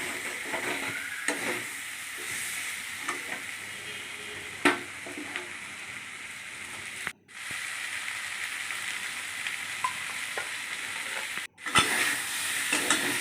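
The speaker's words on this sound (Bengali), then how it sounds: "মশলার সঙ্গে ভালো করে চিকেনটাকে কষাতে থাকলাম" Chicken fried and stirred in spices with a metal spatula in a pan, giving a steady loud sizzle with repeated scraping strokes and a couple of brief sharp breaks.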